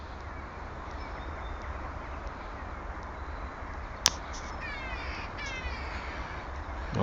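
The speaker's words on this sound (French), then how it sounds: "Ce sont des corneilles." Crows calling in the evening outdoors, a faint sequence of caws at moderate distance over steady background noise, with one sharp brief click midway.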